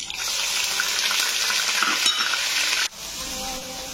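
Onion paste sizzles loudly in a pan with bay leaf, dried chilli, cinnamon and cardamom, a dense continuous fry with a brief utensil knock, then the sizzle drops abruptly and continues more quietly.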